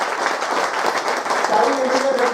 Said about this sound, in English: we all need to clap.